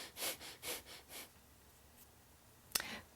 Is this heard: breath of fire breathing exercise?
yes